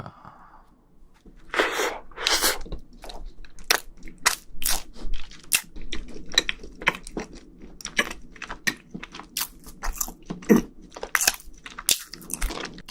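Someone bites into a scone spread with jam and chews it close up, giving crisp, crumbly crunches at irregular intervals followed by softer, wetter chewing.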